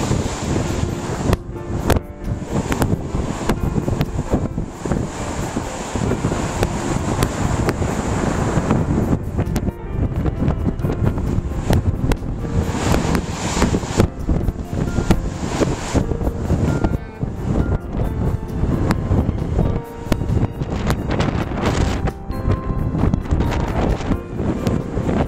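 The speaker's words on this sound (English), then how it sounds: "Tell how much wind there is." Strong wind roars and buffets the microphone at the ocean shore of Stone Harbor, New Jersey, during a Christmas blizzard. It is loud and continuous for the whole stretch, with surf washing underneath.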